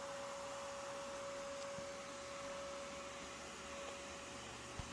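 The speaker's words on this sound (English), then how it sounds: "now I can just vacuum them up from there" Shop vacuum steadily sucking yellow jacket wasps out of a tight nest cavity during a nest removal, a constant broadband roar with a steady hum and occasional faint thumps as insects hit the hose, no voices.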